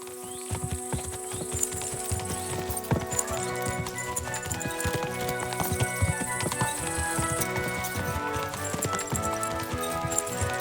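Horse hooves clatter in a fast, continuous gallop in the video game Kingdom Come: Deliverance II, layered with synthetic game-like ambience and tones, steady and fairly loud throughout.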